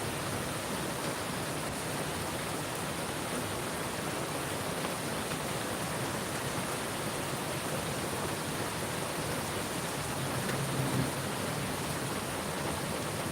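Rain falling outside as a steady, dense hiss of drops that stays even throughout, with no voices over it.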